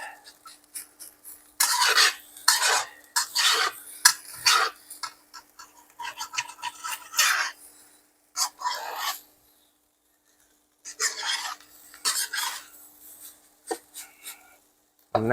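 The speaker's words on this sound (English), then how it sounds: "So you want to keep the rice moving." A spatula scrapes and tosses chicken fried rice around a hot wok in repeated rasping bursts with short pauses between them, close and fairly loud.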